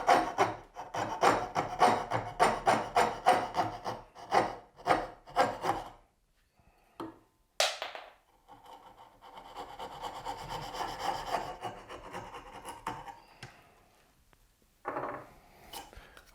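A hand saw cuts a wooden dovetail joint on a workbench with a quick run of rhythmic rasping strokes that slow and fade, then lighter scraping and shuffling follows, with a few sharp knocks.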